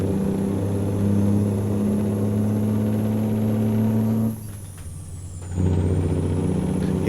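A Kenworth NeedleNose truck in American Truck Simulator idles with a steady low diesel drone, dips briefly during a gear change, then pulls away under load at a constant moderate level.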